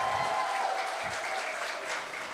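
Church congregation applauding during a worship service, a steady, fairly close burst of many hands clapping together, easing off slightly toward the end.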